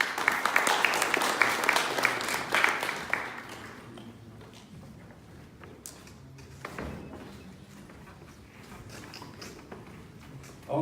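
Audience applause at a pre-GITEX 2018 business event, loud dense clapping for about three seconds that thins into scattered claps and tapers off, with a few late claps near the end.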